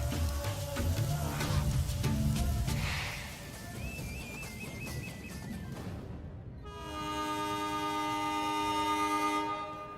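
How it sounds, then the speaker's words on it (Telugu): A train horn blares in a long, steady, loud blast as a train pulls out of a railway station. It follows several seconds of busy, noisy station bustle. "అయ్యో ట్రైన్ కదిలిపోతుంది."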